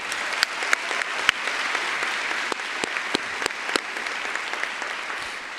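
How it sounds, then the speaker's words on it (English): A high school graduation crowd applauds a musician with sustained clapping from many hands and a few sharp, close individual claps standing out above the wash. "Let's give him a big round of applause."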